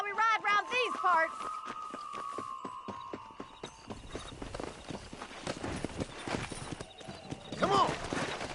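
Horses in a cowboy video game clip-clop in quick, steady hoofbeats under a voice. A neigh and jingling tack rise and fall over the galloping rhythm.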